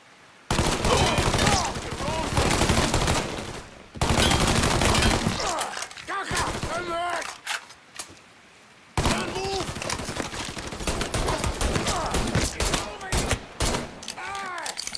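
Sustained gunfire in the video game Mafia 3: dense, loud bursts of automatic shots in long stretches, broken by brief pauses, with a voice shouting at times.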